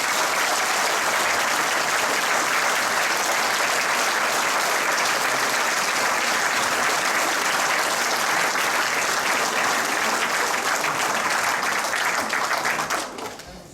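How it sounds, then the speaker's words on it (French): An audience at a village New Year greetings ceremony in Janville-sur-Juine gives loud, sustained applause, a dense, steady roar of many clapping hands lasting over thirteen seconds before dropping away abruptly. "Je suis sûr que vos applaudissements leur font chaud au cœur"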